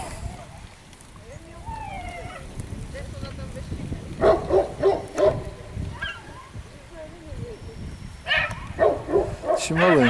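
A small dog barks in short bursts, a few sharp yaps, then a quicker run of barks, over outdoor background noise and nearby talking.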